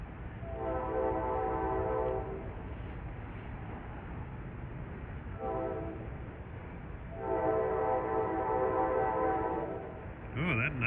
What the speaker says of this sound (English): That was a nice unrestricted K5LA